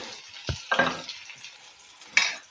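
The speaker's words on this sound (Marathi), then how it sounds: "आता इथं एक मीडियम कांदा कट करून घेतलेला आहे ते टाकून घेऊया" Chopped onion sizzles in hot oil, with a sudden burst as it hits the pan, then stirring and a second loud sizzle.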